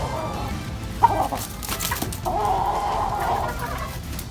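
Chickens on a rooftop, including a young pullet, give a few soft clucks and short calls at close range against steady background hiss.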